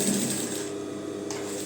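A sewing machine runs steadily while locking a reinforcing stitch on a pair of trousers with an overlapping waistband, a close, continuous whir lasting the whole short stretch.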